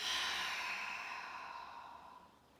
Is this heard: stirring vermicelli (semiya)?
no